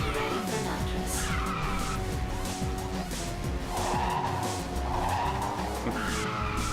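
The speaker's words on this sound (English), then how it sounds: "Still feels weird to drift in those surfaces that make a different sound." Tires skid and squeal as a car drifts across an unusual surface in the racing game Ridge Racer 6, a continuous harsh screech layered over a droning engine, loud and sustained throughout.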